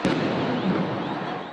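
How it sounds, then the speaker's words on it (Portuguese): Fireworks thrown toward military police during a street protest, a dense, continuous crackle of bursts and pops with a sharp bang at the start, loud and close, with no voices heard. "começaram a atirar garrafas e fogos de artifício na direção dos PMs"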